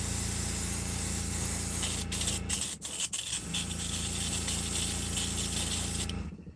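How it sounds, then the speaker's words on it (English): An airbrush or spray gun hisses steadily and close while sepia paint is sprayed onto the sides of handmade wooden fishing lures, the continuous spray broken by a few short pauses near the middle. "I'm just going to paint them on the sides"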